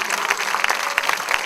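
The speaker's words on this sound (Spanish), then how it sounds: "Démosle un aplauso a Cristo, el sanador." A church congregation applauds during a healing service, a short burst of steady, moderately loud clapping from many hands in a reverberant room.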